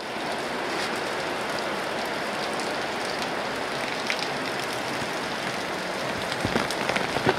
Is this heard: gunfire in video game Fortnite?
no